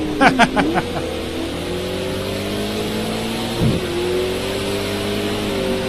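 A racing car engine in a video game on the Azure Circuit, droning steadily with a few quick revving bursts at the start and a brief rise and dip midway, no talking over it.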